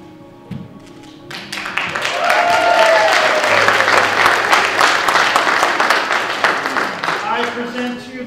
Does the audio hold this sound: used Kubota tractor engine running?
no